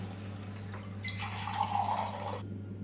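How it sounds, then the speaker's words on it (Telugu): Water is poured from a glass into a pot of simmering vegetable and drumstick sambar, a steady close splashing and trickling over a constant low hum that cuts off abruptly near the end. "2 గ్లాసులు అయితే వాటర్ పోసుకోవాలండి."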